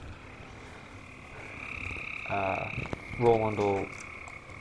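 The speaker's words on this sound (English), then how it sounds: "it sounds like croaking, like a frog, but like really loud as you get closer to the door" Loud frog croaking in two bursts of rapid, raspy pulses, growing louder in the second, over a steady background hum, with a brief mumble of speech.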